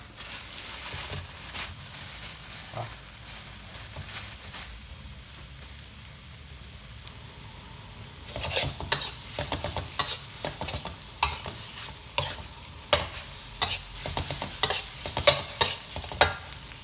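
Beef stir-frying in a pan with salted egg, with a soft background sizzle broken by bursts of scraping and tossing that grow louder and more frequent in the second half, close up with no talk.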